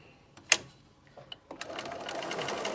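A sewing machine stitches a quarter-inch quilt seam nearby, starting after a couple of soft clicks and running in a steady, fast whir through the last second, with no talk.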